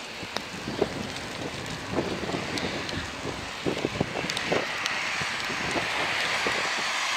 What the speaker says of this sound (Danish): det regner, og det blæser